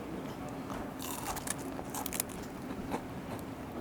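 Someone bites into crispy fried herbs such as dokudami and mitsuba during a traditional Japanese ryokan meal, with close crackling crunches bunched in the middle and quieter chewing after, with no talking.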